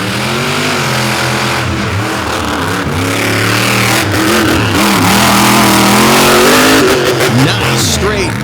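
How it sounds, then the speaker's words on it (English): A drag racing car makes a qualifying run down the track. Its loud engine roars and rises in pitch as it accelerates, carrying on for several seconds, while a voice talks over the noise. "Now Blockhead rolls out for his qualifying run"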